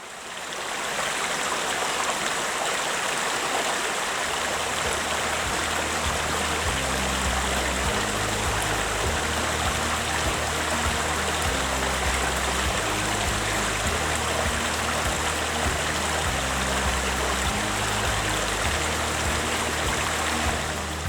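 A swift river over sharp, slippery rocks in Ogan Komering Ulu, South Sumatra, rushes in a steady, loud, close wash with a deep churning rumble underneath.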